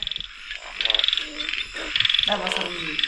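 Frogs croaking near a pond in rural Laos or Thailand, with a rapid pulsing chorus that swells in repeated bursts and carries loudly and continuously, with no talk over it.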